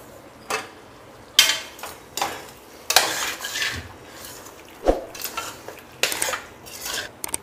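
Mutton pieces being stirred in hot oil in a cooking pot for biryani, with repeated metallic scrapes and clinks of a utensil against the pot in irregular bursts, close and moderately loud, no talking.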